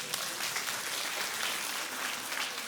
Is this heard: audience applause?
yes